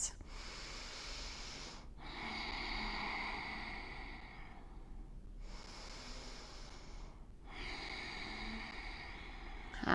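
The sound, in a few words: slow breathing in a seated yoga twist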